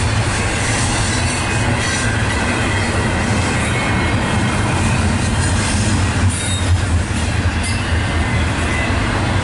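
A freight train with a rear DPU locomotive rolls past close by, with a loud continuous rumble of wheels on rails and occasional squeals and clicks.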